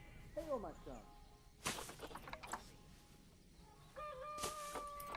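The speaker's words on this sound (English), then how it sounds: "The chickens are going off again." Chickens in the Planet Zoo game cluck and crow repeatedly, trailing off and then rising again, somewhat distant, mixed with faint background ambience.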